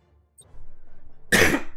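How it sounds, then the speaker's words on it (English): A single sharp human cough bursts out close to the mic during a Battlefleet Gothic: Armada 2 game session, following a stretch of quiet low background noise. "Pardon my cough."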